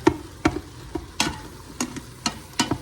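A spoon stirs a vegetable hamburger soup with Worcestershire sauce in an Instant Pot. About eight brisk, evenly spaced stirring strokes scrape and slosh close up, with a faint sizzle between them.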